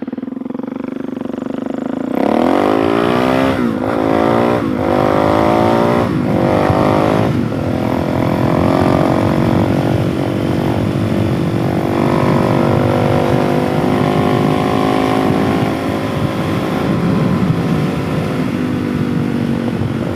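A Suzuki DRZ 470 stroker motorcycle starts to rev, then accelerates hard with quick rising bursts and gear changes before settling into a loud, steady, buzzing single-cylinder drone heard up close.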